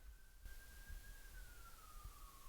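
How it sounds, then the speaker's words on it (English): An ambulance siren sounds outside, a single drawn-out wailing tone that slowly drops in pitch as it passes, heard faint and distant over a low, rumbling background. "Sorry, that's the ambulance."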